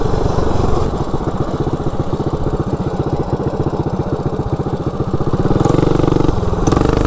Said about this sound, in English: This bike actually runs pretty good. Well, this thing runs good, man.